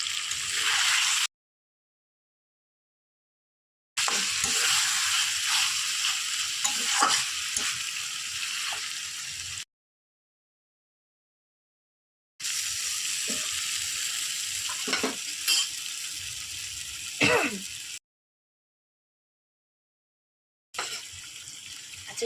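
Potatoes sizzle steadily as they sauté in a pan for aloo dum. The hissing comes in several bursts separated by abrupt silences, with a few brief stirring scrapes. No one speaks.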